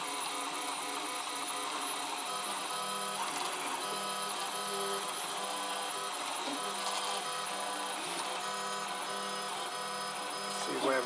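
A 3D printer runs mid-print, its Z carriage moving up and down as the bed shifts, giving a continuous buzzing whir with stepper-motor tones, steady and close.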